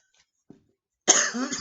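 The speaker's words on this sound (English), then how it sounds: "didn't want to have a coughing fit on camera there" A faint throat sound, then one harsh, loud cough that trails off, heard alone and close.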